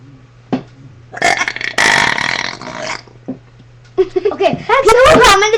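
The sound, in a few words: burping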